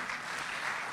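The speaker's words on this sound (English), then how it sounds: "Please keep clapping." Steady applause from an audience at a business forum at KICC, Nairobi fills the brief moment, a dense, even patter of many hands clapping.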